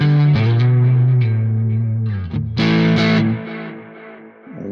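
Distorted electric guitar played through a Nano Cortex modeler with a 4x12 cabinet simulation, heavy saturated chords and held notes with modulation, loud and continuous with no talking.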